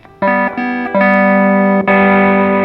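Loud distorted electric guitar chords through a BOSS GT-1 multi-effects unit, held and restruck a few times, with a gritty, saturated amp tone and no talking.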